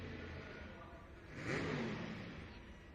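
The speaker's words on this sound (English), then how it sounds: "Bryson Prock as he makes his way to the start line here in our work stock diesel truck class here tonight" A GMC work stock diesel truck revs its engine at a truck and tractor pull event in Madera, California, a moderate, rising roar swelling mid-clip over steady crowd and arena background noise.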